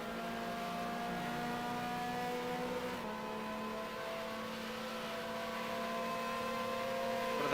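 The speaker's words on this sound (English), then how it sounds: "One of the very loud Judd engines coming up behind." Loud Judd race car engines in a racing video game, a steady high engine drone with sustained whining tones, fairly quiet overall with a slight pitch shift midway as cars close in from behind.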